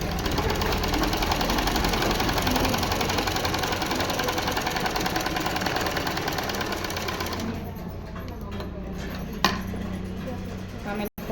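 A sewing machine runs steadily while stitching a blouse, a fast continuous mechanical whir that holds for several seconds, then eases off into quieter handling noises and a few sharp clicks.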